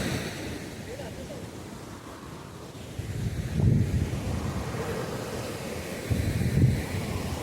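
Wind gusts across the microphone at Kappil Beach in Varkala while waves roll in, a steady rushing noise with two louder surges of surf.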